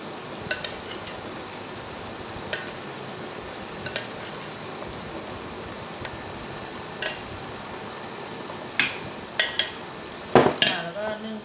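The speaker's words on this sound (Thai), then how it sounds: "เราต้องคนทุกครั้งก่อนหยอด" Metal spoon stirring coconut sugar cup cake batter, with soft scraping under a fan-like hiss and a few sharp clinks against the bowl, growing louder near the end.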